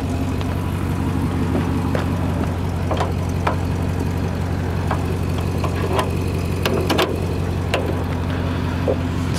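A 2013 Jeep Wrangler with a custom 6.4L HEMI V8 rumbles steadily at idle, a loud, deep continuous drone close by with no talk.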